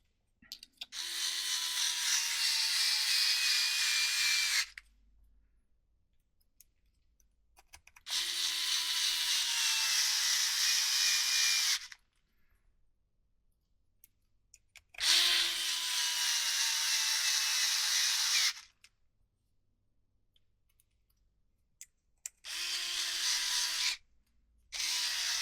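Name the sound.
electric screwdriver driving screws into plastic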